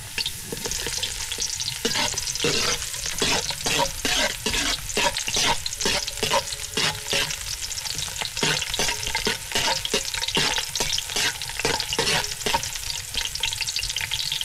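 Onions going into frying garlic in a pan for a corned beef dish, stirred with a spatula: a steady close sizzle with repeated rhythmic scraping strokes throughout, no talk.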